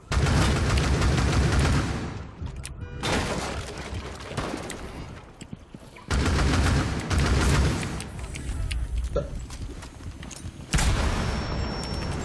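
Repeated game-world gunfire and heavy explosive blasts from a Rainbow Six Siege match, with bursts of loud broadband booms and rattling shots around the 0-2, 3-6 and 7-12 second marks, close and dense with little quiet between.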